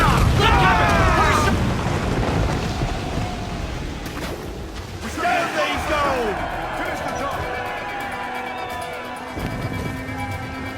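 Naval cannons firing chain shot during a ship battle against a brig in Assassin's Creed Black Flag produce heavy, deep booms and rumbling impacts, with shouted voices and sea-battle noise around them.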